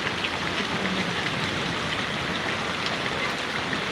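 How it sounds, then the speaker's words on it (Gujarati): Heavy summer rain with hail pouring down in Vadgam village, Patdi taluka, Surendranagar district, Gujarat: a dense, constant roar of water hitting surfaces, close and unbroken, with no voices. "જબરજસ્ત વરસાદ પડે છે અત્યારે ઉનાળામાં"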